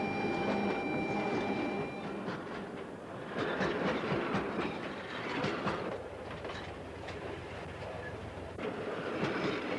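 Kuranda tourist train hauled by an English Electric locomotive running west of Cairns in North Queensland, a steady rumbling roar with rhythmic clickety-clack of wheels on rail joints and faint metallic squeals throughout.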